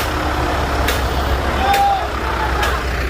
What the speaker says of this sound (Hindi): ये देखें गाड़ी पीछे आ रही है।